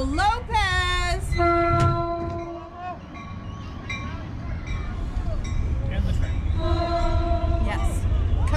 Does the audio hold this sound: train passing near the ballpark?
yes